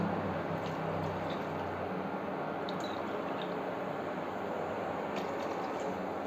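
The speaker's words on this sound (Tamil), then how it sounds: "2 டம்ளர் அரிசி போட்டுக்கனால 3 டம்ளர் தண்ணி ஊற்றுறேன்" Water is poured steadily into a pot of rice, a continuous splashing rush with faint drips, close by.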